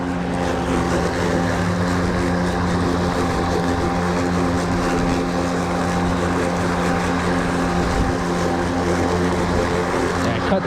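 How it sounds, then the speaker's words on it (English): A lawn mower runs steadily and loud across a yard, its engine holding a constant droning hum with strong low harmonics throughout, close by and uninterrupted, no talking. "That's how you mow that part of the yard."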